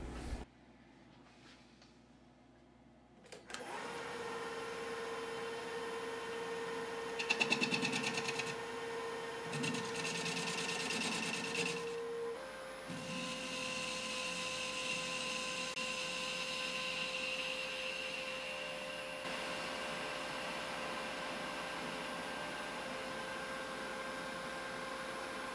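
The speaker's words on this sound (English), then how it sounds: "That's a 40 millimeter rotor broach or annular cutter or slugger" A lathe cuts with a 40 mm annular cutter, also called a rotor broach or slugger. A steady mechanical whine and hum runs throughout, with brief louder grinding bursts partway through and no talk.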